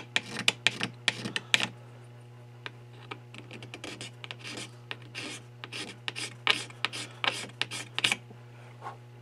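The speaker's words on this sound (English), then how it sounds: "Right now, I'm using a scraper. And I'm getting all the rasp marks." A steel scraper works rasp marks off the flats of a powder horn, making a quick run of close, dry scraping strokes in uneven bursts over a steady low hum.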